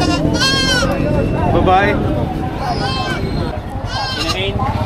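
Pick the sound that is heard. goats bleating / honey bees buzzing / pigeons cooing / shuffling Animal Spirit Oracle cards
goats bleating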